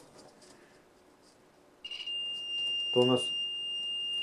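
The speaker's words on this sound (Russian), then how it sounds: "тестер пищит все время" A voice speaks briefly, then a high electronic beep from an electrical tester sounds and holds steadily, continuing under a short burst of talk.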